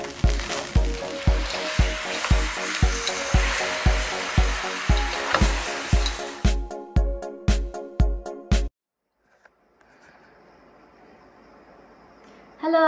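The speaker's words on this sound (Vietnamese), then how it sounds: "Rồi chiên lên cho nó thơm." Fish sauce fried rice with green onions frying in a pan, a steady sizzle broken by a regular beat of spatula strikes and tosses, loud and close, then it cuts off into near silence.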